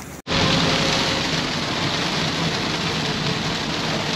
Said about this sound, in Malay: Hujan dalam perjalanan nak ke Sungai Perak.